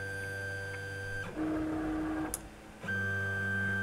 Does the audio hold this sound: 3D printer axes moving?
yes